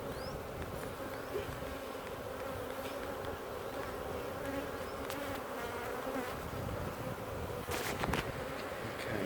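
Honeybees in the Millpond hive, disturbed during an inspection of the bottom box, hum in a dense, continuous buzz close to the microphone, with a brief rustle or knock near the end.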